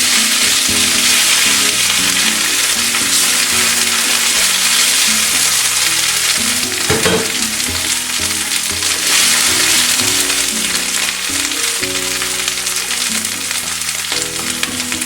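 Garlic, herbs and spinach frying in a pan give a loud, steady sizzle that runs unbroken throughout, close up, with faint stirring and no voices.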